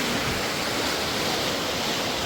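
Floodwater swollen by heavy rain rushes through a Himachal Pradesh mountain village, a loud, unbroken broadband roar of churning water heard up close with no voices.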